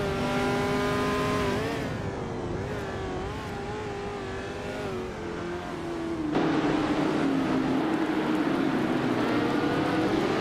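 Vintage race cars, including a 1968 Lola T190, scream past in a racing video game. One engine's rising and falling harmonic whine shifts gears, then a second louder engine note takes over and climbs steadily.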